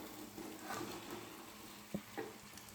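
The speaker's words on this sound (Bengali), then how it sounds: "ভেজে রাখা চিকেনটা মশলার মধ্যে দিয়ে দেবো।" Fried chicken pieces dropped into masala in a pan while cooking butter chicken, giving a soft, steady sizzle with light stirring scrapes and two brief clinks near the end.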